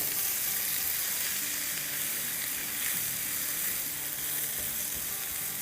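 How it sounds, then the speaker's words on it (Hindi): Onions frying in a pan while being stirred, a dense, loud hiss of sizzling oil held steady throughout with soft stirring movement underneath, close up and without talk. "प्याज़ों को हिला लेते हैं। देखिए ये भी थोड़ी थोड़ी ब्राउन होना शुरू हो रही है।"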